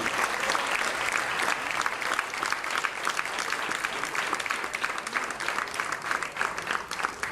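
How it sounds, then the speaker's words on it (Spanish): A church congregation applauds for the Lord, a sustained, dense round of many people clapping at an even level throughout, with faint crowd noise beneath. "¿Cuántos pueden dar un fuerte aplauso al Señor?"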